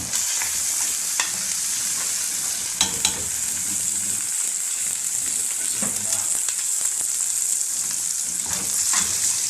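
Eggs seasoned with cumin and salt fry in a pan with a bright, constant sizzle, close by, punctuated by scraping stirs and occasional utensil knocks.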